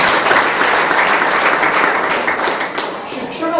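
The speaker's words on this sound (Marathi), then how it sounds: "जोरदार टाळ्या वाजवून." A crowd at a community gathering applauds loudly and continuously, dense clapping that fills the hall and fades slightly toward the end.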